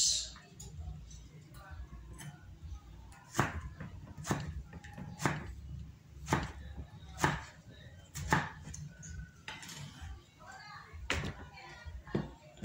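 A knife chops vegetables on a cutting board during home cooking prep, about a dozen sharp knocks in an uneven rhythm, close and fairly quiet, with faint room noise and a distant voice between strokes.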